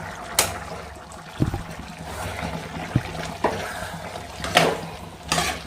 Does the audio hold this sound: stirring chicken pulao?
yes